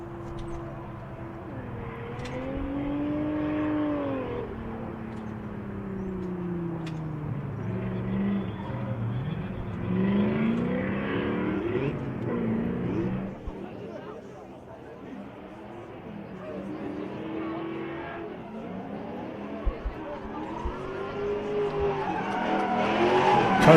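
A race car in a National Extreme Festival event makes a solo run around a cone course, its engine rising and falling through sweeping pitch changes with tire squeal, steady and fairly loud throughout the run.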